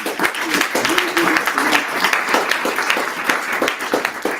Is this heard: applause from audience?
yes